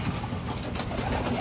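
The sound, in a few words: pigeons cooing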